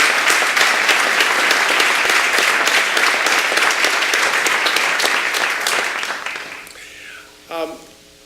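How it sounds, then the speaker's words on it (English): Loud, dense audience applause fills a business hall of fame banquet room, sustained and steady before tapering off, with a brief voice near the end. "Please give her a big round of applause."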